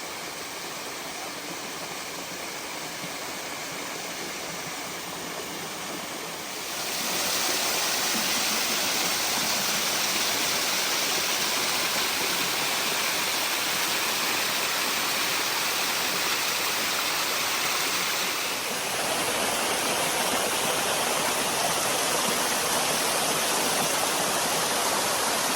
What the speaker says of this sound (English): It's a fairly nice waterfall.